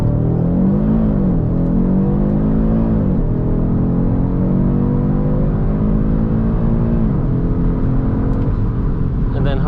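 A 2023 Audi RS 3 accelerates hard from a launch-mode start, its engine revving loudly through rising and falling gear sweeps with a steady close roar heard from inside the car.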